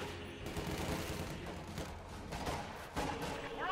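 Machine gun fire and other gunfire during a battle in the strategy game Company of Heroes 2: quiet, rapid, continuous bursts with occasional thumps, distant and low in level.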